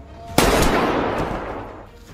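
A single sharp gunshot rings out in a Squid Game style video game, loud and close, followed by a long echoing decay with no talking.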